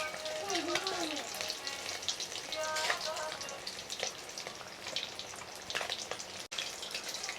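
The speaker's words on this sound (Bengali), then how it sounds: "মাছগুলো অবশ্যই আপনারা চুলার তাপটা হালকা আঁচে রেখে এপিট ওপিট করে ভেজে নেবেন।" Brigate fish fry in oil over low heat, a steady crackling sizzle with soft spattering bursts that runs throughout, fairly close, while a few faint tonal sounds pass briefly in the background.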